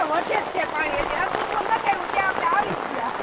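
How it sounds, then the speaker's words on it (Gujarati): Dense, steady torrential rain over a village hisses without a break, with a voice faintly talking underneath. "વરસાદ એટલો પડે હે કે એની કોઈ સીમા જ નથી"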